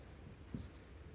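A brief, faint scratch of pen or chalk marking out an equation for a Class 10 maths lesson, a single short stroke heard alone over a steady low background hum.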